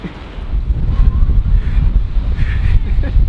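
Gusty wind in a New York snowstorm buffets the microphone with a low, rumbling roar that swells and eases; faint voices may be under it.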